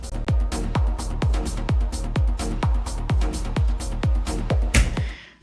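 Outro of the electronic track, a steady four-on-the-floor kick drum pounding at a regular beat under sustained synth pads, ending with a brief cymbal swell before cutting off.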